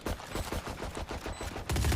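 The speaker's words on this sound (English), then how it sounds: "And lots of gunfire trying to take people out, trying to walk in through this flank." Gunfire rattles through a Valorant match in quick, repeated bursts of sharp automatic shots, mid-distance and fairly loud, with a heavier burst near the end.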